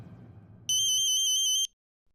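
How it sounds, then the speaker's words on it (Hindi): A telephone gives a single electronic ring, loud and close, lasting about a second after a moment of low room noise, then cutting to silence. "देखिए तो विष्णु का फोन है का?"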